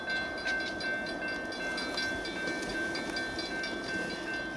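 A BNSF freight train rolls steadily through a level crossing, a continuous broadband rumble of wheels and cars with a sustained high bell-like tone from the crossing signal, steady and close for the whole stretch.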